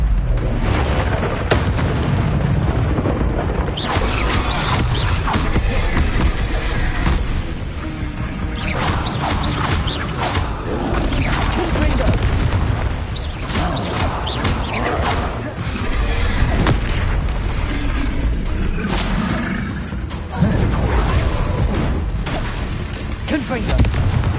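Confringo blasting spell explosions in Hogwarts Legacy, a dense, loud barrage of booms and crashes rolling on without pause, with speech and game noise layered throughout.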